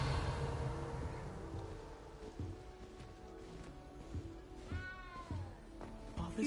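A small cat in the Hogwarts Legacy game gives a few high, wavering meows over a busy layer of game music and ambience, with a brief gliding cry standing out midway.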